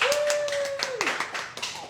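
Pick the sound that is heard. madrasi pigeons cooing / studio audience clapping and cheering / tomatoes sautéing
studio audience clapping and cheering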